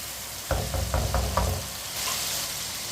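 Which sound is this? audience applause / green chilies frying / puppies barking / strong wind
green chilies frying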